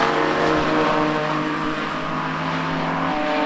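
A Team Parker Racing Ginetta GT50 race car roars past on the circuit at Donington, its engine loud and close with a steady high whine that fades slightly as it moves on.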